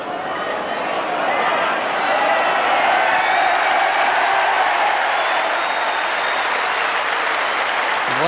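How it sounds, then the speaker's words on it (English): A huge crowd around the green at the 1984 World Lawn Bowls Singles Final roars and applauds, a dense sustained wash of clapping and cheering that swells and holds at full loudness. "once again we hear that roar from the huge crowd now gathered around this green as Willie Wood finally gets it right"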